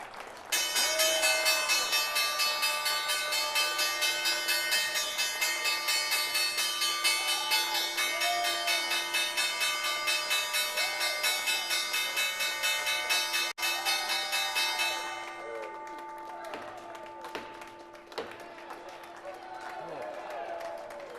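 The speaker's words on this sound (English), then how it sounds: "That's how you ring the closing bell" The New York Stock Exchange closing bell rings continuously for about fifteen seconds, a loud bright electric clang with a cheering crowd, then stops, leaving clapping and a few gavel knocks.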